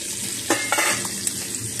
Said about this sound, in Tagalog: kumulo ng aking paksiw